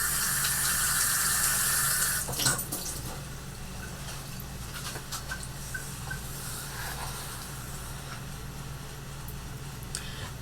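A cup of water pours for strawberry syrup, a steady rushing splash for about two seconds that then drops to a quieter trickling hiss.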